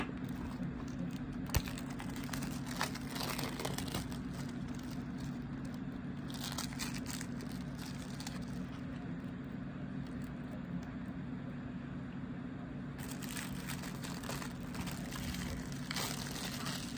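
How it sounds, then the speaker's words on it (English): Plastic wrap crinkles and crackles as it is peeled off a Blu-ray case for Wish, soft intermittent rustling and tearing close up over a low steady background hum. "we're going to take that plastic off and see what's inside"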